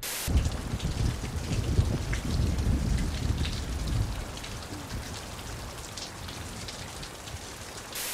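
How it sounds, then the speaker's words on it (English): Steady rain pours down on climbers at a cliff, a dense continuous hiss with heavier patter early on, constant and fairly close throughout with no talking. "everybody looking dejected and cold in the rain"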